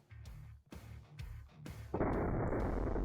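An AK-50 rifle fitted with a new muzzle brake fires several loud, sharp reports in close succession, each followed by a short decay. A final blast is left ringing longer.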